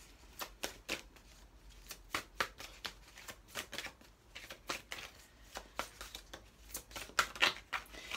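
A deck of Cœur de Lune oracle cards is shuffled by hand, a rapid run of crisp riffling and slapping bursts in an uneven rhythm, close and clear, with no talk.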